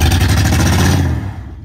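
A Dodge car engine revs hard during a burnout, a loud, close, rough roar that holds briefly and then drops off.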